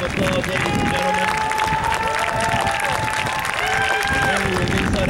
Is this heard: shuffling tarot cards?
no